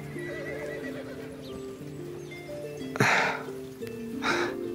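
A horse whinnies and neighs close by, its hooves clip-clopping around it, with a second shorter neigh a moment later and a faint tonal hum running underneath.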